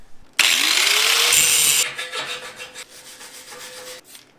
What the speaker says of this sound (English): I'll take the grinder to it and take all the humps off